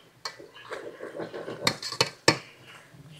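Metal tongs clink and scrape against a pan while stirring chicken carbonara, a few sharp, close taps and rattles at an irregular pace.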